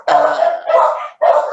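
A dog barks three times in quick succession, loud and close, each bark full and slightly rough, with brief gaps between them.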